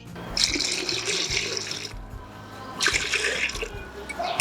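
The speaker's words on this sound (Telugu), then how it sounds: "కొన్ని వాటర్ పోసుకుందాం" Water pours in two bursts, splashing into a pot of thick curd with a hollow gush, close by and separated by a short pause.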